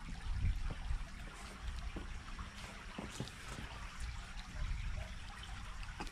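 Creek water trickles and babbles over rocks at a spot along a shallow stream in Alabama, a faint, continuous rippling wash with no voices.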